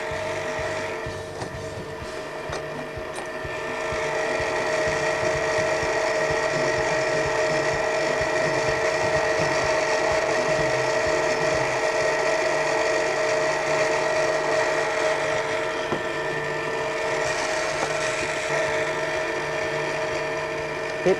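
Electric stand mixer beating Thai steamed bun dough at medium speed, a steady droning motor hum with a faint rhythmic churn that runs on continuously, with no talking.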